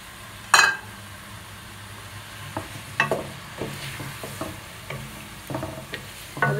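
Tomatoes fry with spices for fish pulao, a soft sizzle under occasional spoon scrapes and knocks against the pan, with one sharp clank near the start, close and without talk.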